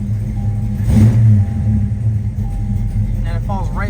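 A car engine fitted with a Holley carburetor blips briefly with a quick rev, then drops straight back to a low, steady idle of about 500 to 600 rpm, rumbling close to the microphone.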